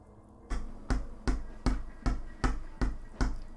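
Game controller buttons are pressed in an even, steady rhythm for infinite bomb jumps in Metroid Dread, about eight sharp close clicks roughly half a second apart.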